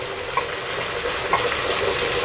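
Chicken curry sizzling in a pan as chili powder is stirred in, a dense continuous frying hiss with a few soft scrape clicks from the spoon.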